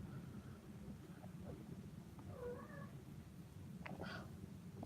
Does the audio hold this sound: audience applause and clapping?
no